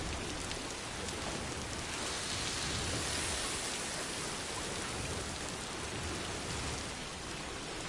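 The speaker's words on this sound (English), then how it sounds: "that's raining" Steady rain falling in the video game Death Stranding 2, a dense even hiss of drops with no voices over it.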